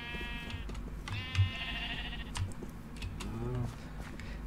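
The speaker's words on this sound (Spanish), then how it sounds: "Un montón de ovejas, ya veis." Sheep bleating in the block-building video game Minecraft with the IndustrialCraft mod, several distinct wavering bleats spaced over a few seconds against a low steady background hum.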